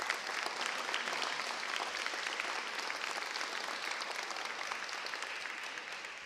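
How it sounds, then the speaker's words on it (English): A seated audience claps steadily for a civic celebration, a dense wash of applause that holds at a strong level and tapers slightly toward the end. "Can we give him another round of applause?"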